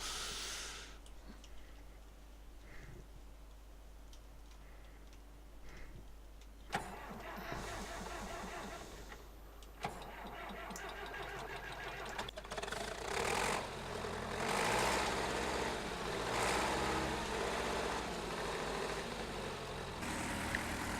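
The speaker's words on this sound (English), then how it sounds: "I should have waited for the engine to really spool up" In-game tractor engine from Farming Simulator 2015 cranks and fires, then idles and revs up, swelling louder and rougher as it spools, with a steady low drone throughout and no talk.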